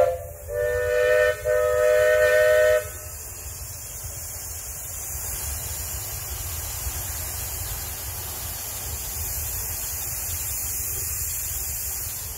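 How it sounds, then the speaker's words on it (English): Triple-header steam train hauling a 25 to 30 ton load up a grade: a loud chime-like steam whistle for about three seconds, then a steady low rumble and hiss of the working train that continues alone. "it was a triple header pulling a 25 to 30 ton train up the grade"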